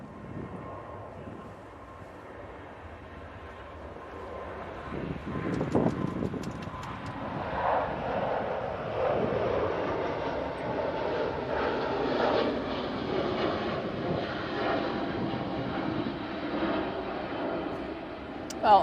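An airliner departs for Hong Kong from Manchester Airport during a storm, its distant engine rumble swelling from quiet into a broad, sustained roar, with rain noise and occasional voices.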